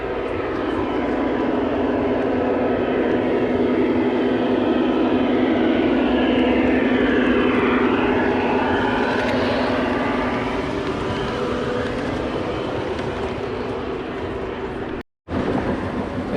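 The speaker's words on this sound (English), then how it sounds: "Here comes the train again." A model train runs on a huge layout in Bryson City, North Carolina, giving a continuous rolling rumble and whirr that swells as it passes nearby, then fades and cuts out briefly near the end.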